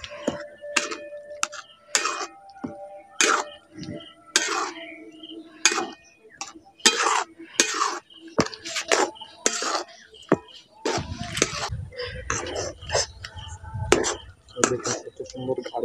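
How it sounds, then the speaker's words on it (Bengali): Semolina and water being stirred in a pot, with repeated sharp scrapes and clacks of a utensil against the metal in irregular bursts, close up, with occasional throat clearing. "এবার সুজিটা দিয়ে নাড়াচাড়া করে সুজিটাকে একটু সিদ্ধ করে নেব।"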